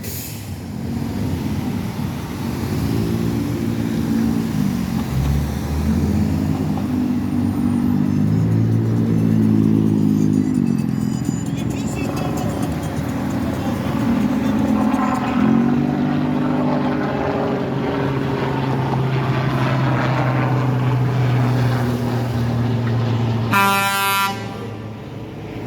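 Traffic rolling through a congested intersection at Jackson Square, a steady low rumble of idling and moving engines up close, with a loud horn blast standing out near the end.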